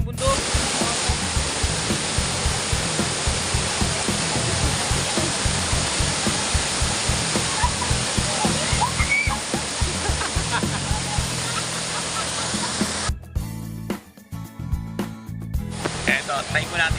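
River water pouring over falls at Cavinti Eco Park, a loud continuous roar that cuts out briefly near the end before returning.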